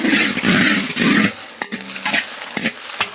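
Chopped onions sautéing in a pan in a village kitchen, a loud close sizzle broken by repeated scraping stirs and clanks of the spoon against the pan, with no voices.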